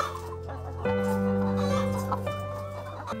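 Isa Brown laying hens on an egg farm cluck steadily and close by, a dense overlapping flock chorus with sustained calls and a few louder squawks, no talk.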